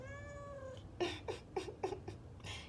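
A house cat meows several times in a short series of close, fairly loud calls after a steady high tone, with a low background hum and no talk.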